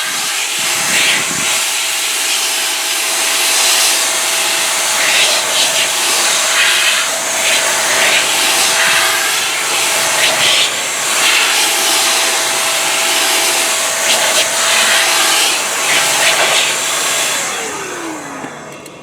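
An X-Power air blower drying tire dressing out of tire grooves roars as a loud, steady rushing whoosh for about twenty seconds, with slight wavering but no break.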